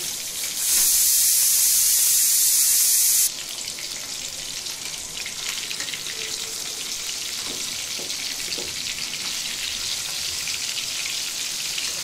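Fish pieces frying in a pan give a steady, close sizzle and crackle for the whole stretch, with a louder, brighter hiss for a few seconds near the start. No one speaks.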